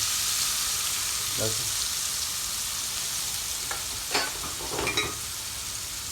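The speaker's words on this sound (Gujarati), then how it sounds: "ડુંગળી નાખી અને મિક્સ કરી નાખવાનું" Onions frying in a pan with a steady broad sizzle, the onion stirred in, with a few brief scraping and clinking stir sounds near the end.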